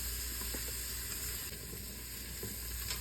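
Onions and green chillies fry in hot oil for a chicken noodle soup, giving a steady close sizzle with faint stirring clicks and no speech.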